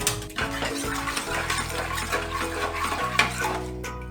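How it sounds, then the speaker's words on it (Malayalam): Kerala-style roasted-coconut sambar with vegetable pieces being stirred in a pot, giving soft scraping and sloshing with faint utensil clinks against a steady low background hum, no talking. "ഇളക്കി കൊടുക്കണം."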